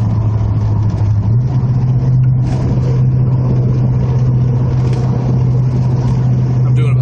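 A 1979 Chevy El Camino street performance car held at full throttle, its engine giving a steady, loud, droning roar that rises slightly in pitch early on and stays sustained, heard from inside the cab.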